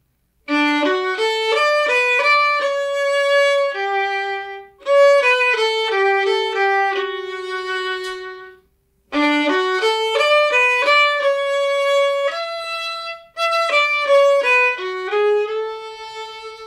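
A solo violin melody with clear sustained bowed tones moves stepwise through slow hymn phrases, Hymn 136 of CCB Hymnal 5, with brief pauses between four phrases.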